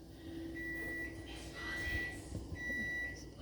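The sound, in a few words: kitchen timer beeping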